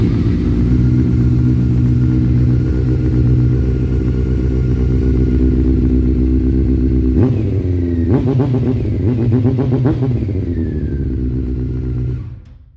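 Honda CBR 600F four-cylinder engine idles loudly up close, then blips through several quick revs in the second half before cutting off at the end; no one speaks.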